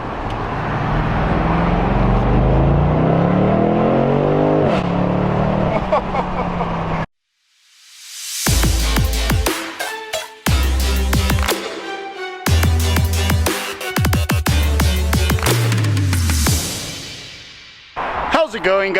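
A BMW 8 Series convertible with over 500 horsepower builds a deep engine roar under acceleration, then, after a brief silence, comes through in loud, choppy bursts. A voice speaks over the first part.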